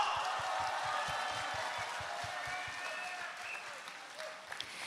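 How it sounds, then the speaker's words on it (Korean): Sustained applause from an audience congratulating newly elected supreme council members at a Rebuilding Korea Party convention, steady dense clapping throughout that eases slightly toward the end. "신임 최고위원들께 다시 한번 축하의 박수 부탁드립니다"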